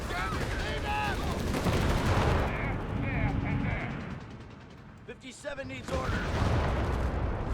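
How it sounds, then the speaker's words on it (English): Gunfire rattles in Company of Heroes 3 amid a Panzer and Greyhound battle: dense bursts of shots and booms, with someone commentating over them throughout. "Shots fired."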